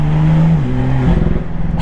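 Tuned BMW M2 Stage 2+ of about 500 hp, its engine revving hard close by, a loud rasping note that climbs, dips and flares again in a short burst.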